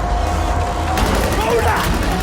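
A single gunshot rings out in a video game, a sharp broadband crack about a second in, set against a dense, constant game soundscape with voices present.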